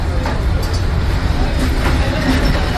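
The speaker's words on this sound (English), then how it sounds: "Feels like a passenger train has gone." A steady, loud rumble of a passenger train rolling past nearby, continuous low-frequency roar with rattling wheels and no clear breaks.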